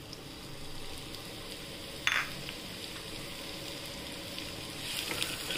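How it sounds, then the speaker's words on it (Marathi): Onion frying in oil for rajma masala, a soft steady sizzle with one sharp metallic clink partway through and a slight swell near the end. "आपण कांदा टाकूया."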